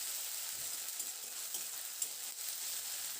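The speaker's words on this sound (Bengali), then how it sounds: "আদা রসুনটা দিয়ে নাড়াচাড়া করে খুব ভালো করে এটাকে ভেজে নিয়েছি" Ginger-garlic paste frying in hot oil, a continuous fine hiss of sizzling at moderate volume with faint occasional stirring taps, no voices.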